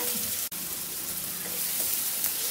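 Chopped onion, tomato and green chili fry in a pan, a steady close sizzle with a single sharp click near the start.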